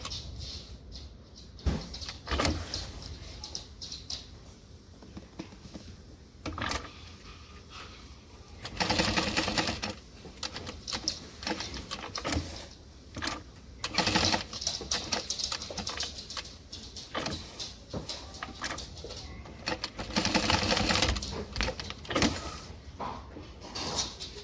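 Domestic sewing machine stitching in repeated bursts of fast mechanical whirring, starting and stopping several times, quiet and close in an indoor room with no talking.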